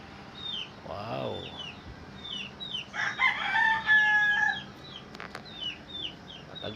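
A rooster crows once nearby, with other birds chirping in the background and some clattering noises midway.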